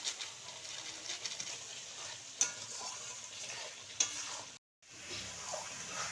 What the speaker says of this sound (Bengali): মশলাটা আমার ভালো করে কষানো হয়ে গিয়েছে